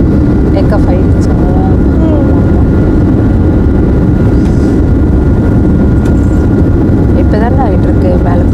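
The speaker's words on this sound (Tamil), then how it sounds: "நம்மளோட ஃப்ளைட்டு வந்து டேக் ஆஃப் ஆகுது" A Qatar Airways airliner taking off from Chennai gives a loud, constant engine roar and rumble, heard from the cabin, that fills the whole stretch while a person talks over it.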